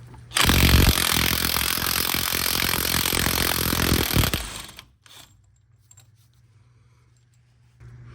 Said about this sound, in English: Now grab a 32mm axle nut socket and remove the axle nut.